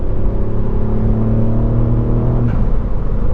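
A Ford Fiesta MK8 ST fitted with Airtec parts is driven hard, its engine droning loudly under load with steady harmonics before the revs drop abruptly near the end, alone with no voices.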